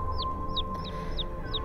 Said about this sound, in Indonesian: suara anak ayam itu terdengar cukup jauh